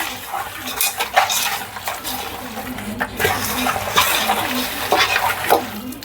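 Masala is worked into chicken pieces for biryani in a metal bowl, with repeated close clinks, scrapes and wet squelches in an uneven rhythm lasting several seconds.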